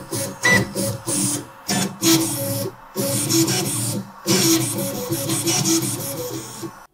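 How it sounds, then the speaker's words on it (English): Stepper motors on a 3D printer driven by G-code play a tune in short bursts of buzzing tonal notes, separated by brief silences, loud and close with a hissy edge. "I can play music on my 3D printer"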